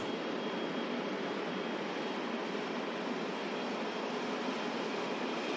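A Boeing 747 airliner taxiing out at Manchester Airport, heard as a steady, broad jet engine roar that holds at an even level throughout with no breaks.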